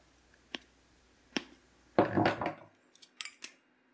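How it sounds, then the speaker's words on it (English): Cutters snipping through the wires of a Dyson cord: two sharp isolated clicks, a short rustling crunch, then a few more quick snaps, close and fairly quiet. "Go ahead and cut these wires off"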